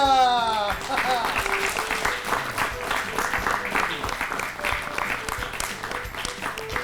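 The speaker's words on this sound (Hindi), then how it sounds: "तालियां" Audience applause rewarding a correct answer on a children's quiz show, a dense burst of clapping that opens with a brief tonal flourish and runs steadily throughout with some tonal sound mixed in.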